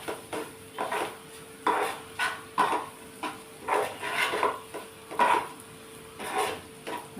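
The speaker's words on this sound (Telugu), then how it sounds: "ఇది ఇలాగే ఫ్రై అవ్వాలి కాసేపు." Mushrooms frying on a low flame in a pan with a pinch of garam masala, heard as repeated clinks and scrapes of a spatula against the pan at a steady rhythm, fairly close, with no voices.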